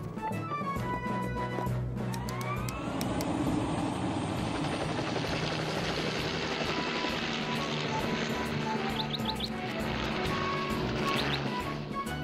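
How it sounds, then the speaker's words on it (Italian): Continuous loud helicopter rotor and engine noise in an animated cartoon, steady and close, with faint higher whines and clicks over the drone. "Io prendo l'elicottero, Sam!"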